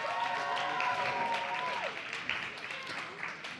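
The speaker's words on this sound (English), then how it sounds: "let's give Christina a warm round of applause as she makes her way to the stage" An audience at a youth summit panel event applauds steadily as a moderator walks to the stage, the clapping loud and continuous, with some talk mixed in over it.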